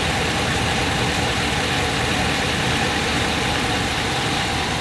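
A warmed-up 2018 Ram pickup truck engine idling, a steady smooth mid-low rumble held at even loudness throughout with no talking.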